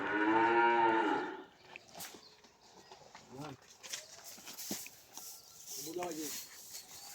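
Beef cattle for Qurbani at a livestock farm: one loud, drawn-out moo opens, followed by two shorter, fainter lows amid background bustle and people talking.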